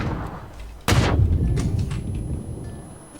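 A single loud gunshot from a weapon in the PUBG Battlegrounds video game, sharp and close, followed by a decaying rumble and lingering game noise under quiet background sounds.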